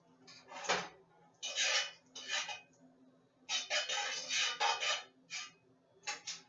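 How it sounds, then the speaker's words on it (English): Metal pan and utensil clatter on a stovetop while a frying pan is buttered for eggs: several sharp, close knocks and scrapes in irregular bursts with quiet gaps, and no talking. "I butter my pan a little bit so let it get hot before I put my eggs in"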